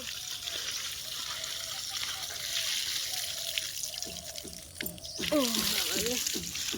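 Water poured onto plants in a rooftop garden, a steady splashing stream with a louder gush near the end, while people talk over it.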